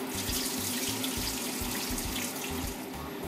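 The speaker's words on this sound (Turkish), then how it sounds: "ben havuçlarımı ve patateslerimi süzüp size göstereceğim" Water pours steadily and loudly as boiled carrots and potatoes are drained through a strainer, with a continuous splashing rush and no talking.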